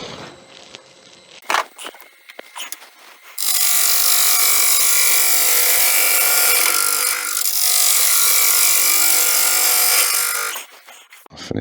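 Lathe gouge cutting into a spinning piece of 5000-year-old Irish bog oak, a loud continuous rasping cut lasting about seven seconds, preceded by a few tool clicks and knocks.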